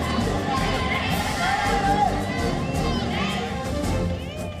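A roadside crowd gathered along both sides of a Tiranga Yatra procession route, a steady loud hubbub of many voices with children's shouts and cheering rising throughout.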